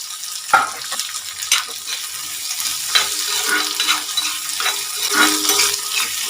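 Small shallots fry in a pan for a spicy mutton dish, a bright, steady sizzle with intermittent crackles and spatula scrapes, close and fairly loud.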